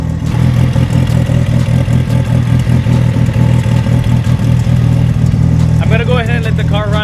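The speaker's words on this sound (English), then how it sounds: "I'm gonna go ahead and let the car run for like 15 minutes" A Mitsubishi Evo 8 fitted with a new AGT 62mm turbo and hood-exit wastegate dump idles steadily, a loud close rumbling engine with rapid pulsing clatter; a voice briefly speaks near the end.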